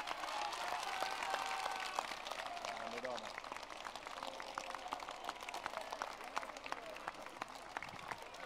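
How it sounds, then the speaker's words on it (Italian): A crowd at a political rally in Foligno applauds loudly and steadily, a dense roar of clapping that carries on without a break. "Fateglielo forte l'applauso a Donatella."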